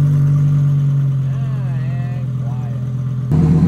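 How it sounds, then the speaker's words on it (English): The engine of a Ford F450 dually truck idles loudly just after a cold start with a steady low drone, and a voice speaks over it partway through. Near the end the tone abruptly jumps higher and louder. "The rottiest cold start I've ever heard too."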